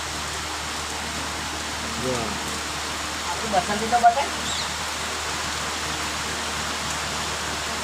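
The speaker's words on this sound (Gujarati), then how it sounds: "ધીમી ગતિએ જોર વરસાદ પડે" Steady midday rain falls in a continuous broadband hiss, with a few brief louder knocks near the middle and a voice speaking briefly over it.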